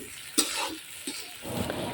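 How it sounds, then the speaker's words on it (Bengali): Onions with cinnamon, cardamom and bay leaves hit hot oil left from frying potatoes on a wood-fired stove, giving soft bursts of sizzling and crackling with brief stirring scrapes, fairly quiet. "আলু ভাজা তেলেই আমি পরিমাণ মতো পেঁয়াজ দিয়ে দিব, সাথে গরম মশলা, দারুচিনি"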